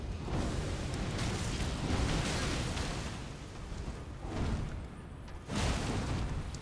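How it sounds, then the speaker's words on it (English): A big explosion in the Elden Ring video game, in the sewers under Leyndell: a loud, sustained roaring blast with rumbling bursts that swell and subside over several seconds. "Big explosion."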